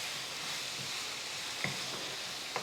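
Onions sizzling and frying in a pan while being stirred for a chicken curry, a steady close hiss with a few faint scraping stir sounds and light clicks.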